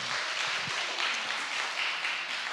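A congregation at a church revival meeting claps together in sustained applause, a dense, even wash of many hands from a moderate distance that continues throughout without anyone speaking.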